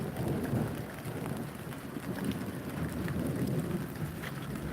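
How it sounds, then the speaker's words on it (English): Heavy monsoon rain pours steadily outdoors in a dense, continuous roar of drops, with low rumbling thunder rolling beneath it from a distance, and no voices. "Isn't the sound of rain so nice?"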